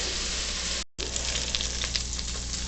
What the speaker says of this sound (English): The meat is browning.